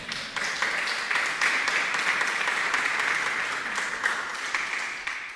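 A church congregation claps together, a dense, even round of applause that holds steady for about five seconds.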